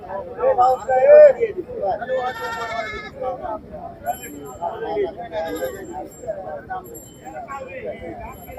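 Several goats bleat repeatedly amid a busy crowd at a livestock market in Ullapara, Sirajganj, Bangladesh, with people talking and calling out nearby.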